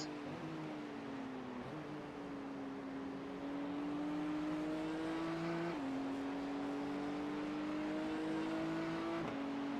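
A GT race car engine drones steadily in the iRacing sim at Watkins Glen, its pitch climbing through each gear before brief dips at the shifts, loud and continuous with no talking.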